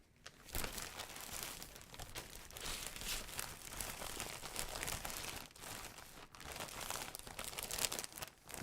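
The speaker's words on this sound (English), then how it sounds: "Big plastic bag." A big plastic bag is crinkled and crumpled continuously indoors for several seconds, with loud, dense crackling rustles and a few short pauses.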